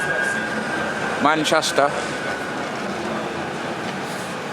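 A Manchester city tram rumbles steadily along its line as passengers step off, with a brief bright ringing squeal in the middle, all under continuous street noise and nearby voices.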